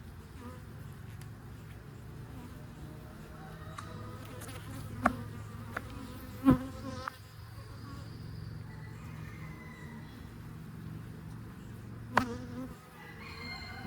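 Honey bees buzz steadily during a beehive inspection, a close continuous drone with a few louder bees passing by and some faint clicks and knocks of frames.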